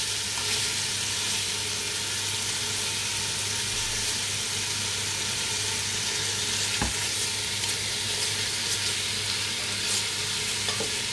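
Meat sears in a pan for a Spanish stew, giving a loud, dense, unbroken sizzle close by for the whole stretch, with a single brief knock partway through and no voices.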